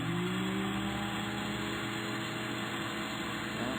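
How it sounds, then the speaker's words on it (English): Continuous mechanical grinding whir from a puzzle mechanism in the Mystery Case Files: Ravenhearst game, a steady, loud, dense rumble that holds evenly for several seconds without speech. "That does some kind of grinding."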